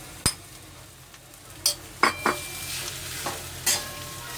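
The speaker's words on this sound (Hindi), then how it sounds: "इसे लाल फ्राई करना है। ये अच्छे से फ्राई हो जाएगा।" Mashed potatoes sizzle steadily in a pan while a utensil stirs and scrapes, with a few sharp clinks against the metal.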